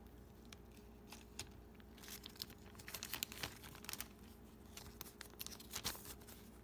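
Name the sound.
opening McDonald's Happy Meal toy packaging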